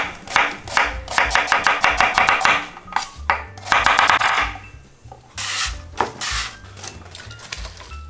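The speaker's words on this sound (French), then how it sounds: "je vais couper ma garniture grossièrement" A knife roughly chops vegetable garnish such as leek and celery on a cutting board for coq au vin, in loud, close, rapid bursts of strokes separated by short pauses.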